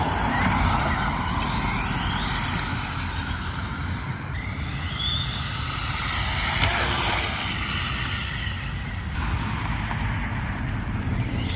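A 1/10 scale RC Rustler 2wd set up as a no-prep drag car drives on the street, giving a continuous loud motor whine with shifting high-pitched squeals.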